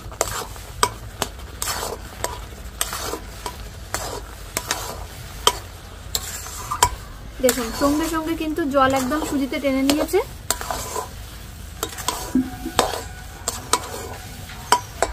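Semolina is stirred in a pan as it soaks up water, with repeated close scraping and knocking strokes, a sizzle underneath and a voice talking over part of it.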